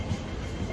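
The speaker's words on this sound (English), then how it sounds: "This is actually the last train." A Hong Kong MTR train on the West Rail Line, the last service of the night, rumbles steadily from inside the carriage as a brief, close, continuous low roar with no talking.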